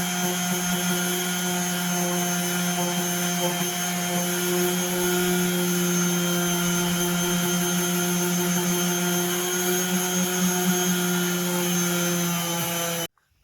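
Steady, continuous whine of a power sander working a Mercedes W204 C250 body panel before paint, loud and unbroken for about thirteen seconds with a stable tonal hum, then stopping abruptly at the end, no talking.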